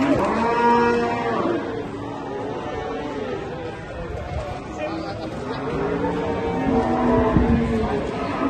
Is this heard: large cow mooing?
yes